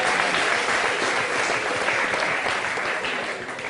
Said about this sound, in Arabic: هاي يا سيدي تصفيق على المشاريع